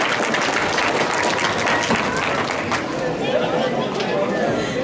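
Steady applause from a crowd at a McLean County Indian Association event fills the whole stretch, dense and continuous, with a few voices and cheers mixed in.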